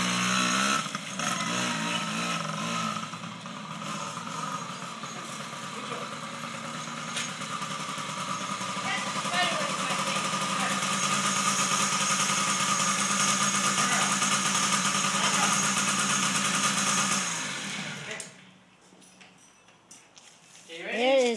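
A small dirt bike's engine runs steadily and fairly close, its high buzzing drone holding for about eighteen seconds before cutting out into brief quieter noise, then a short loud burst at the end.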